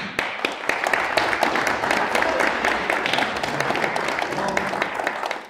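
Audience applauding at a mayor's New Year reception in France, steady dense clapping from a crowd that holds at an even loudness for the full stretch, with sharp individual claps standing out near the front.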